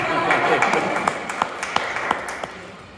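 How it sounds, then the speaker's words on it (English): Audience clapping at the start of a candid talk event, a dense, even patter of many hands with a few sharper individual claps standing out, fairly close and steady throughout. "Yeah, you can clap."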